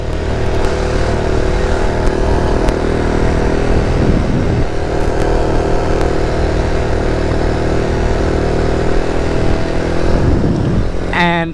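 A Boom Vader Grom clone motorcycle being ridden gives a continuous, loud buzzing engine drone with a steady pitch and small rises and dips in revs, close to the microphone the whole time, with no talking.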